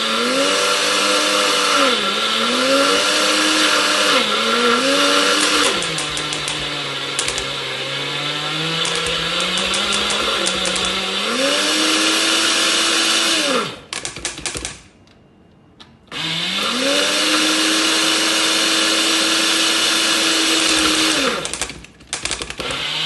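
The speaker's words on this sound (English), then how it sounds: "that's still an easier way for me, is the blender." Kitchen blender whirs through ingredients for traditional Liberian GB, a loud motor drone whose pitch rises and dips as the load shifts, cutting out briefly before starting up again at full speed.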